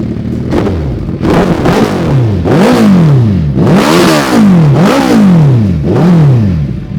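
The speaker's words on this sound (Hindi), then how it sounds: "एक बार एग्जॉस्ट नोट सुनते हैं" A Suzuki Hayabusa motorcycle exhaust revving hard close by, with repeated throttle blips rising and falling in pitch about every second, loud and alone.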